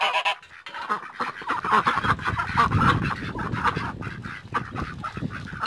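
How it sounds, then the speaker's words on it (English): Chickens and guinea fowl calling in a busy, overlapping chorus of clucks and honking squawks, steady and close throughout with no talking. "You chickens don't need to come. Guineas, you don't need to come."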